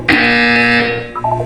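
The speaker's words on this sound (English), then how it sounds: "When you hear the buzzer, look down at the floor." A loud, harsh electronic buzzer from the video game Portal 2 sounds once for about a second, then gives way to a brief synthetic tone.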